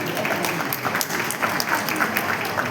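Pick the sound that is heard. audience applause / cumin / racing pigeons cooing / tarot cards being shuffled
audience applause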